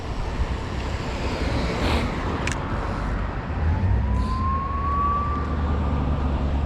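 An ambulance siren rises faintly in the distance over steady city traffic rumble, heard while cycling, its single tone swelling and sliding past.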